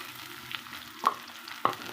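Soft sizzle of chopped onion frying in hot oil, with a few sharp clinks of a spoon or spatula against a pan, steady and close.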